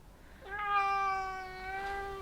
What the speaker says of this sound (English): My cat Billy's coming to say hello